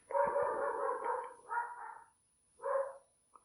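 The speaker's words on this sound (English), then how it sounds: "it sounds like there's a dog that's getting excited" An excited dog barks and yelps in two close bursts, a longer run of rapid barks followed by a shorter one after a brief pause, fairly loud against a quiet indoor background.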